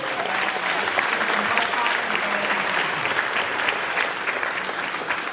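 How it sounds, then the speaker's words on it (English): A large audience at a high school senior awards night applauds graduating seniors, dense, even clapping that holds steady and loud throughout with faint voices mixed in. "Let's give them a round of applause for their hard work and perseverance."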